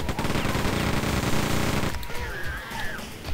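Rapid, dense gunfire in Quake 2 rattles continuously for about two seconds, then cuts off, leaving quieter game sounds and a warbling tone.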